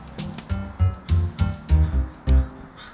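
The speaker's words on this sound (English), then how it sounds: "these crows rule this roost" Crows caw on a campus in Bothell, seven or so harsh calls in a quick, rhythmic run, close and fairly loud.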